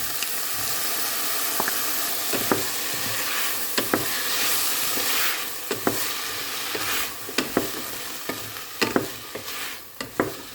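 A spoon stirs carrots and potatoes through sizzling beef stew for German goulash soup, with a continuous frying hiss broken by repeated sharp scrapes and clacks against the pot at an irregular pace.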